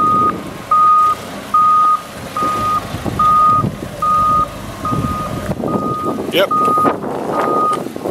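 A 2014 Doosan G30P-5 forklift sounds a loud, regular reversing beep, about eight evenly spaced tones over engine rumble and wind noise, with a person speaking briefly near the end.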